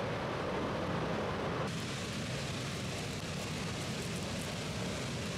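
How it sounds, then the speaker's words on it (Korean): Heavy mist and spray from a huge waterfall pour down like rain, making a loud, steady, broadband hiss and roar that continues unbroken throughout with no voices. "동쪽 폭포에 이르니 빗방울처럼 물보라가 쏟아져"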